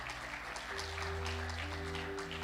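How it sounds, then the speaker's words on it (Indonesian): Congregation applauding at an Indonesian online Sunday church service, steady clapping under sustained organ or keyboard tones, moderately faint and continuous throughout. "Berikan tepuk tangan bagi Tuhan, saudara."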